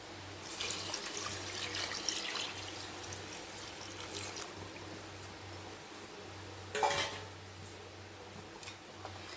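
Measured water is poured into a pot of chicken biryani: a faint, steady splash and trickle with a low background hum, briefly louder near the end.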